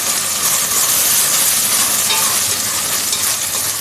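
Chopped tomatoes with salt sizzle steadily in hot oil for a kushka dish, a close, continuous frying hiss heard alone without any talk.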